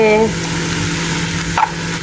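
Kulni greens fry and are stirred in a pan, making a loud continuous sizzle close by with a brief scraping stir partway through.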